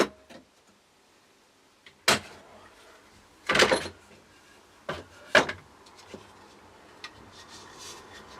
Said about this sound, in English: we're unclamping this now to see